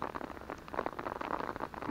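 Rain patters densely on an umbrella overhead in a freshly mown field, a close, continuous crackle of drops with no voices.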